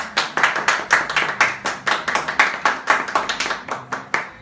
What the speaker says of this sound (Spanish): Un fuerte aplauso para ellos, por favor.